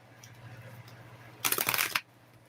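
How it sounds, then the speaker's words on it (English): A deck of oracle cards is shuffled in one brief burst of crisp riffling, close and fairly loud after a quiet stretch with faint room hum. "Going to shuffle my deck,"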